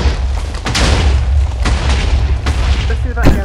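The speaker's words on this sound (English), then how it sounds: "Explosions everywhere." Explosions go off in the video game Minecraft during a tower's destruction, a rapid run of heavy booms and thuds at close range, loud and overlapping, with people talking over them.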